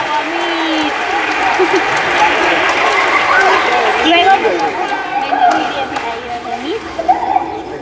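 Steady applause fills a concert held at the Divina Misericordia sanctuary, a broad crowd clapping continuously, with children's voices and chatter rising through it.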